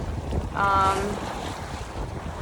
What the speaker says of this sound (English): It's probably blowing about 10 knots right now.